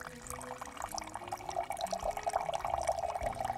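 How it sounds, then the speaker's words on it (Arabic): A thin stream of water trickles and splashes steadily, growing slightly louder, close by and alone without talk. "ناخد شوية مية من هنا."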